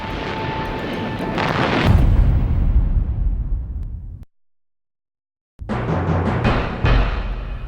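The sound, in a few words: artillery shelling explosions, archival WW2 Tobruk footage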